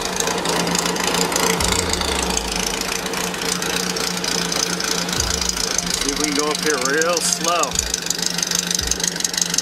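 A Volkswagen-powered dune buggy sand rail engine runs steadily with a rough, knocking idle and some light throttle, close up, while someone talks over it throughout.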